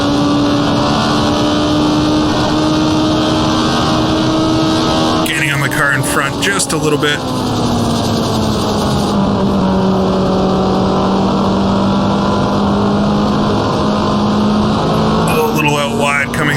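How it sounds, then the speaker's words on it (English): A turbocharged 1978 USAC Indy car roars steadily at Trenton Speedway in the Automobilista racing game, its engine tone droning loud and near, dipping and rising with throttle, while someone talks over it throughout. "Try to keep in the throttle a little bit more. 3/4 throttle just to keep that turbo spooled."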